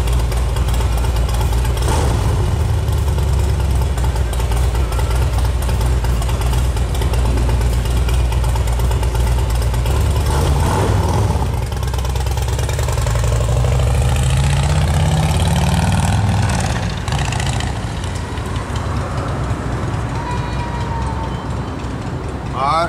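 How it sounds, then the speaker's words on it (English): A motorcycle engine idles steadily up close, a continuous low rumble that shifts slightly in pitch, with someone talking over it throughout. "motorcycle."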